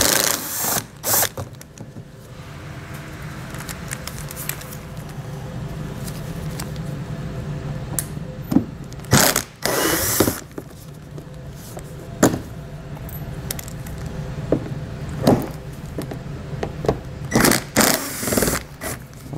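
A power drill backs out T15 Torx screws from the wheel well liner of a 2020 Buick Enclave, giving several short, loud bursts of whirring spread across the clip, with clanks and handling noise between them and no talking.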